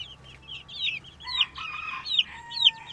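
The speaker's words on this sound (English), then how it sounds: "Baby chicks come in all different colors." Baby Brahma and Seabright chicks give several high, thin peeps in quick succession, fairly close and fairly faint, over a quiet background.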